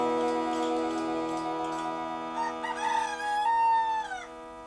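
A rooster crows in one long drawn-out call near the end, heard alone and fairly clear after a moment of steady tonal background.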